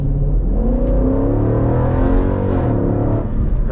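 A 2020 Jeep SRT with a big engine and large exhaust revs hard through an acceleration pull, the loud, close engine note sweeping up and down steadily with no speech.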